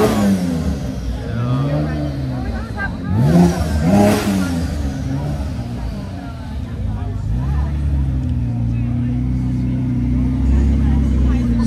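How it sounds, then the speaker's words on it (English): A Porsche Carrera engine revs at an outdoor supercar show, its pitch climbing and falling in a few rising bursts before settling into a steady rumble, with people talking nearby throughout. "The Carrera thing. This thing sounds pretty good."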